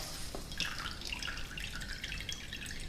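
Water squeezed from grated cucumber for tzatziki trickles and drips close by in a steady, continuous splatter for a few seconds, with no talking.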